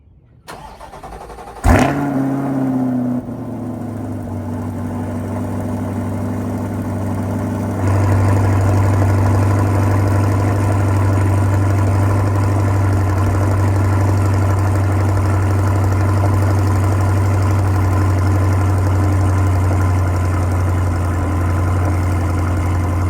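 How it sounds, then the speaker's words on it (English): Chevrolet C8 Corvette with a 95mm throttle body, cold starting: a sharp crank and bark, then a loud, steady high idle droning on close by for the rest of the clip. "All right, so cold start with the new 95mm throttle body on."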